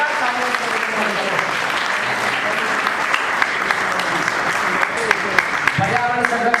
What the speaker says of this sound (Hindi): आप जोरदार तालियों से